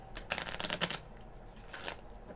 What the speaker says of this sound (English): the first shuffle